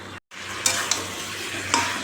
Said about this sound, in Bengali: এখন একটু কষাচ্ছি